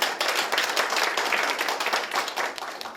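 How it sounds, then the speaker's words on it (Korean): An audience at a policy forum in Korea claps to welcome a council member to the podium, a dense, steady burst of applause lasting a few seconds. "큰 박수로 맞이해 주시기 바랍니다"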